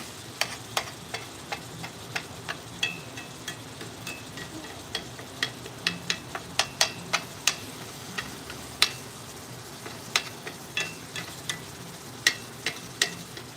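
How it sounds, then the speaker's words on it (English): Meat browns in a hot pan with a steady low sizzle, broken by frequent sharp ticks and clinks of a utensil scraping and stirring at an uneven rhythm, close by with no talking. "Browning the meat, guys."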